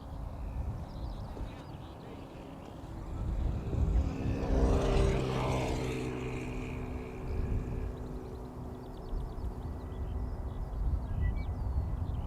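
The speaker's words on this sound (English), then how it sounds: "coming this way, leaving for Edinburgh, KLM flight 927, 737-800" A KLM Boeing 737-800, sixteen years old, departs Schiphol for Edinburgh, and a broad jet roar swells to a peak around the middle and then fades under steady outdoor background noise.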